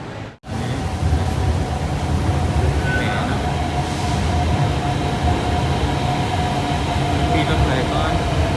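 A train riding through Hanoi city with a steady loud rumble of wheels on track and a continuous interior drone, a brief gap at the start, and someone talking intermittently over it.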